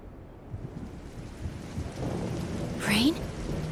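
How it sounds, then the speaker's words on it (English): Steady rainfall with a low rumble of thunder in the game Trails in the Sky, an even wash of rain growing slightly heavier, while a brief voice cuts in near the end. "Rain?"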